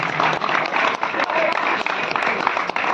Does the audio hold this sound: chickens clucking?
no